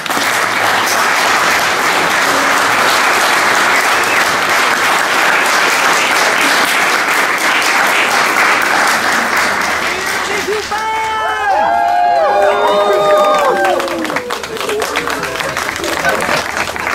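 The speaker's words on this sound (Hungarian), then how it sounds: "Többieknek lehet tapsolni." Guests applaud after a wedding ceremony in Szabadkígyós, with steady, dense clapping from a full crowd. Later, scattered whistles and cheers rise above the clapping.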